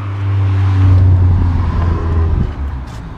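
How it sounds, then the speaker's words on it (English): Steady car noise with a low engine drone and road rumble from inside a GSX, swelling slightly mid-way, with wind noise on top. "Sorry for the wind noise and the car noise."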